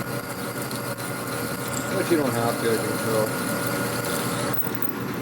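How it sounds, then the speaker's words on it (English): A drill bores through hot-rolled steel with cutting oil in a motorcycle workshop, a steady motor whine running under a voice as he talks throughout. "Easier on the drill."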